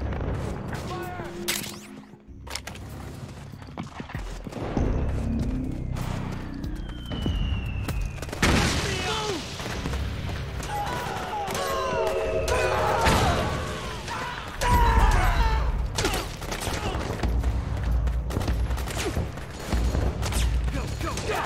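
Dense gunfire and explosions ring out during a battle in the video game Metal Gear Solid 4: Guns of the Patriots, loud bursts and booms overlapping with shouting voices throughout.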